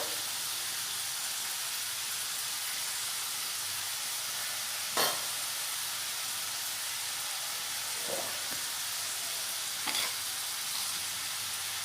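Small cut potatoes fry in oil with turmeric and salt for ghugni, a steady dense sizzle with a few brief louder clicks of stirring, close up and without talk.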